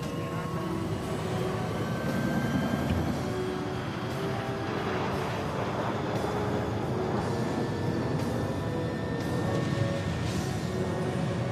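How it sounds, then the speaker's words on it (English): A passenger jet taking off gives a loud, steady engine roar that holds for the whole stretch, with faint voices under it. "PanCon 257, you're clear for takeoff."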